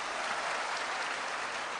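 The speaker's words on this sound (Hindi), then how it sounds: "तालियां ठोको पीछे वालों के लिए।" Crowd applause at a Ram Katha religious gathering in Lalitpur, a dense, steady wash of many hands clapping at once, loud and continuous with no gaps.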